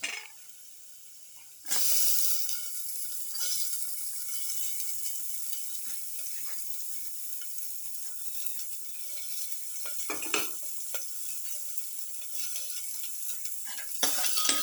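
Shallot for a beef carrot stew hits hot oil and breaks into a sudden, steady hissing sizzle that holds for many seconds, with occasional faint clicks of a utensil against the pan.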